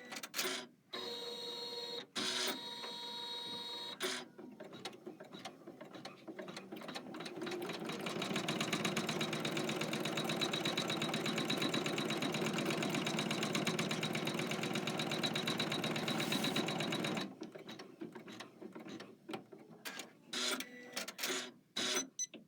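A computerized embroidery machine stitches a radish design in a hoop, its rapid mechanical needle chatter running steadily for about ten seconds between shorter start-stop bursts. Close, fairly loud, with no talking.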